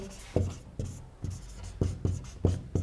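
Hand writing during a lesson on the solar system's planets, a series of scratchy pen-on-paper strokes in short bursts, close and fairly quiet, with brief pauses between strokes.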